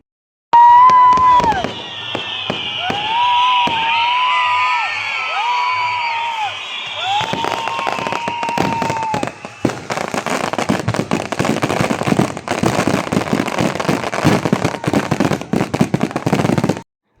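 Firecrackers and fireworks burst at a night-time village goddess festival. Whistling rockets rise and crackle, then a dense rapid barrage of loud pops follows, with a crowd cheering and shouting in the background.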